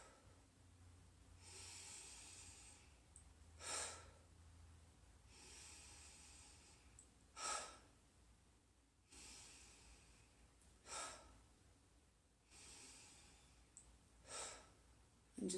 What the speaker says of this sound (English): And you can play around with short inhales and long exhales.